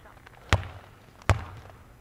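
A basketball smacks a court twice, two sharp, loud bounces under a second apart, each with a short ringing tail, and quiet between them.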